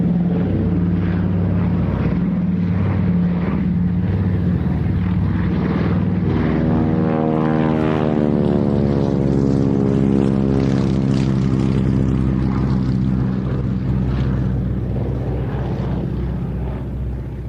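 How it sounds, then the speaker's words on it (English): A Beech D-17S Staggerwing radial-engine propeller biplane flies past at a flying display, its droning engine swelling and shifting pitch as it passes, loud and continuous throughout. "an aircraft that we haven't seen in a flying display for more than 40 years in terms of this particular example of the Beech D-17S, the Staggerwing"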